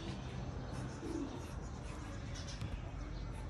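Pigeons in a loft in the provinces coo softly and intermittently over a steady background hum, with someone talking throughout.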